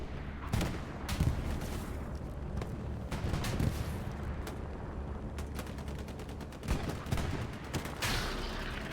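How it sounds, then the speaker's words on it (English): Heavy booming explosions and gunfire from a World War II bombing run on Utah Beach in a multiplayer battle, with dense rolling blasts and crackling shots layered continuously, several sharp louder bursts standing out. "Here comes the bombing run."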